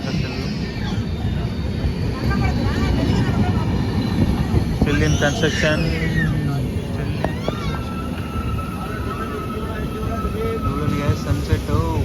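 A train rumbles past at Kadiyam railway station, a station under construction, as a continuous low rolling roar with occasional squeals and clanks, while people talk nearby over it.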